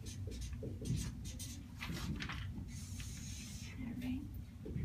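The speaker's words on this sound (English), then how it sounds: "I want you to write this as I'm writing so we can save some time" A teacher writes out a grammar definition on a board, quick scratchy strokes and taps repeating in short bursts, up close, while a voice speaks intermittently underneath.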